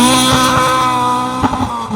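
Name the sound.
Ford Escort MK2 rally car accelerating up hill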